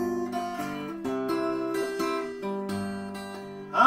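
A blues guitar plays a turnaround, a short run of plucked notes and ringing chords, close and clear with no voices.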